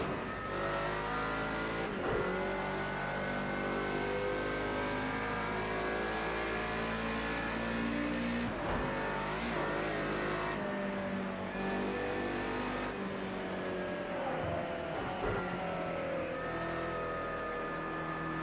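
A racing car engine in Project Cars 2 drones at steady high revs with sharp gear-shift dips and spool whine, loud and continuous with no talking.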